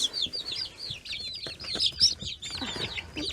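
Orpington hens clucking and squawking close by in a farmyard flock, a busy run of short, bright calls over a few seconds.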